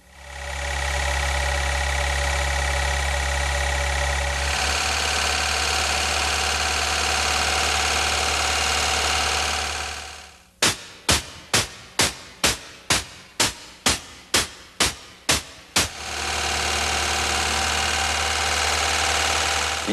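A car engine with wrist pin knock revs to about 2,000 RPM, a loud steady drone that falls away before a run of about a dozen sharp evenly spaced clicks, then the engine hum returns.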